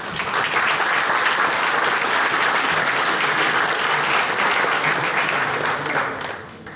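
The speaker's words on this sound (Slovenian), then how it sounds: "mislim, da ga boste tudi vi z enim bučnim aplavzom" Loud, dense applause from a large crowd at the opening of an asphalt and bitumen conference, sustained for several seconds before tapering off at the end.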